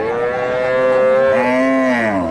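A heifer calf or cow at a village cattle market lows in a loud, sustained moo that rises and falls in pitch, close by, with steady crowd noise beneath and no talk over it.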